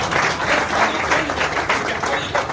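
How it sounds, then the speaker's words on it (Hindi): An audience gives loud, sustained applause, a dense wash of many hands clapping steadily for a few seconds with no voices on top. "एक बार जोरदार ताली दीजिए।"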